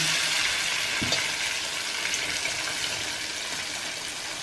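Falafel balls frying in hot oil, a steady broadband sizzle throughout with a brief low thump as one is pushed in, close and continuous.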